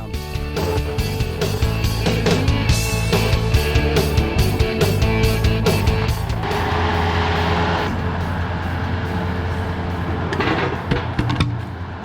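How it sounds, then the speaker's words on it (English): A skid steer loader runs close by with a loud, steady diesel engine drone and a deep low rumble, the pitch shifting as it works, with clanking over the engine toward the end. "Giving Hunter a little skid steer action here"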